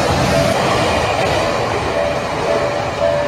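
A very short train runs along rails, a steady loud rolling rumble with faint metallic squeal and clatter, continuous and close throughout.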